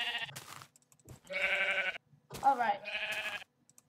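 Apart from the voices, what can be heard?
sheep bleating in the video game Minecraft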